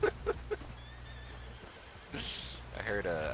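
A horse neighs in Red Dead Redemption 2, a few short loud whinny bursts at the start followed by game ambience and a later rising squeal, with no talk over it.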